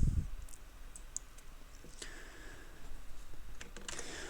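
Faint computer mouse clicks and light keyboard taps over a quiet room background while signing up on a cryptocurrency exchange website, with a few scattered soft clicks spread across several seconds.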